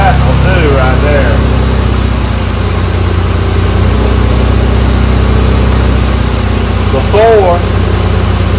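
A 1984 Nissan 300ZX engine idles steadily at about 1,800 RPM, a loud, constant low drone close by, with a person talking briefly over it.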